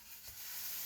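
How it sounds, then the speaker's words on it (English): A burger sizzles in a hot frying pan, a steady, faint hiss of frying with no voices over it. "It's always the sizzle."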